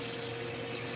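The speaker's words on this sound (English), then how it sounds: "run a little warm water in there" Warm water runs steadily from a kitchen tap into a sink, a continuous soft hiss at moderate distance with no voices.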